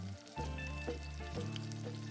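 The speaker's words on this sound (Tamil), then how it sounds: "கோல்டன் கலரா ஆகிற வரைக்கும் நல்லா ஃப்ரை பண்ணிக்கிறேன்" Sliced onions with a little salt fry in a pan for bhindi do pyaza, giving a steady close sizzle with soft crackles and a stirring scrape.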